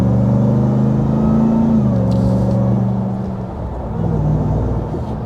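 Supercharged 2024 RAM TRX pickup engine accelerating, a loud, steady low rumble with rising and falling drone tones heard from inside the cab.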